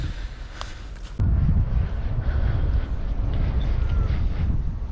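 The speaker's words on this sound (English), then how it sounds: "Never a fan of the wind, but it's gonna persist." Wind buffeting the microphone out on the Parramatta River, a steady low rumbling roar that jumps louder after the first second and persists, with a few faint clicks early on and no speech.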